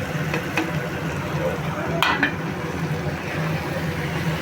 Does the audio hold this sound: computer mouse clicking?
no